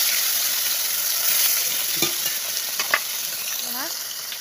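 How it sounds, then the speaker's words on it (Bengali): Pieces of catla fish fry in hot oil in a pan, giving off a constant close sizzle with a few light scrapes and stirring sounds on top. No voices are heard. "আর এখানে ভাজা হচ্ছে"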